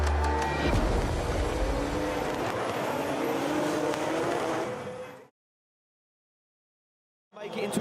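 Drift cars at a Drift Masters Top-16 battle in Ferropolis, Germany launch and rev hard through the gears, a loud, dense engine roar sustained for about five seconds before cutting to silence, then returning briefly.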